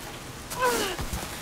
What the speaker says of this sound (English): Ugh, it's raining.